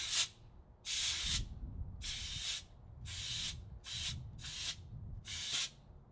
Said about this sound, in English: I'm gonna take the air compressor to it all and see if we can't clean some of this up a little bit.